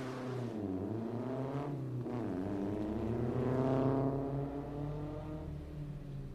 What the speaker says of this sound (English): Linda Duncan just left the line in the number 165 Miata.